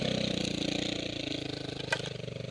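A sawmill engine runs at a steady throttle, giving a rapid, even pulsing drone. It is close and continuous, with one brief sharp click partway through.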